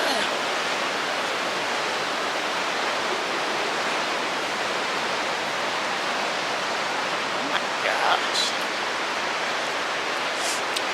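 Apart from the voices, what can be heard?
rushing water noise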